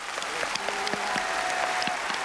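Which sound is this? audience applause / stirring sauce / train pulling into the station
audience applause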